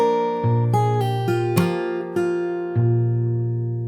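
Fingerstyle acoustic guitar plays an opening, a few clear plucked notes and chords over sustained bass notes, close and alone with no voices.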